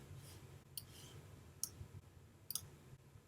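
Computer mouse clicking while working in medical billing software, a few sharp isolated clicks spaced irregularly, some doubled, over a quiet low room hum.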